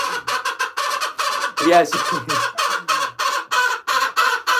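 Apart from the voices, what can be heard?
chickens clucking at the coop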